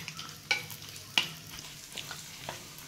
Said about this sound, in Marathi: हे आपले मग असे काजू बदाम ना बारीक केले मसाला परतून घ्यायचे